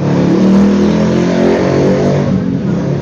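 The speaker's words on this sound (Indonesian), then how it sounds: "ada suara motor" A motorcycle engine revving outdoors, loud and close, a steady droning roar that swells and holds for a few seconds without talk.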